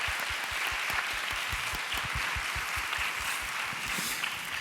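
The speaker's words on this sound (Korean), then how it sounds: "다시 한번 박수 한번 격려할까요" A congregation applauds during a church service held for soldiers, a steady, dense round of clapping from many hands that lasts throughout at even strength, with no talking over it.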